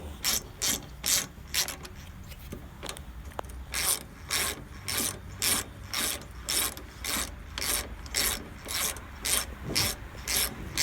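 Repeated ratcheting clicks from a hex-key socket loosening bolts on the gas tank of a Honda Goldwing GL1200 motorcycle, steady bursts of close, crisp mechanical ratchet strokes with no talking.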